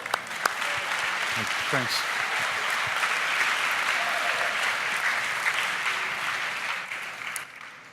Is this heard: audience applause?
yes